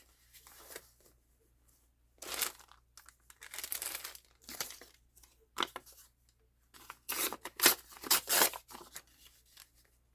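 Paper being trimmed with scissors while working on a journal page: several close, crisp bursts of snipping and crinkling, separated by short quiet pauses, with the busiest cutting near the end.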